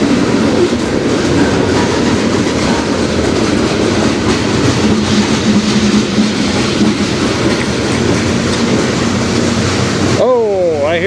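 A CN freight train with a distributed power unit rolls past on the Strathroy Sub, with a loud, continuous roar of wheels and cars up close, ending in a brief squeal as the sound cuts off.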